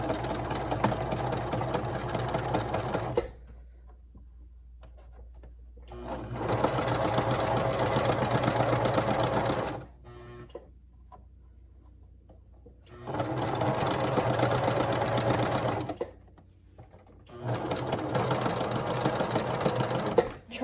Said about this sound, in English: let's head to the sewing machine